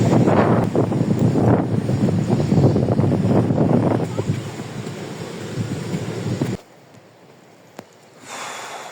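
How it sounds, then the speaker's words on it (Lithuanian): Strong wind buffets the microphone on the Latvian seacoast as waves roar in a dense, continuous rush. The noise cuts abruptly to near quiet, then a lighter gust returns. "labai stiprus vėjas, bangos"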